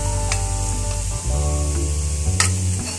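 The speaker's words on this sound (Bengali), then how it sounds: "আমি ফুচকা বানানোর জন্য কিছু ফুচকা আগে থেকে ভেজে রাখছি।" Fuchka puris fry in hot oil with a steady, loud, dense sizzle that carries without a break, with a few brief crackling bursts rising out of it.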